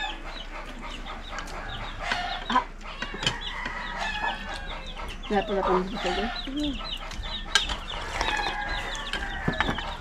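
Chickens cluck and squawk nearby in a rural setting, with repeated irregular calls over a background of people talking.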